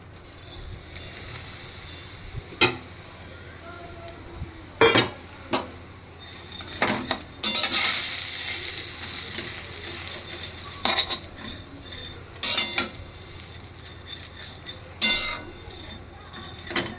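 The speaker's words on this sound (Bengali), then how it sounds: "সিমুইগুলো যখন একটুখানি ঘিয়ে ভালো করে নাড়াচাড়া হয়ে গেল" Semai vermicelli stirred in ghee in a pan: sporadic metal clinks and scrapes of a spoon against the pan, spaced irregularly over a soft background, with a short busier stretch of scraping in the middle.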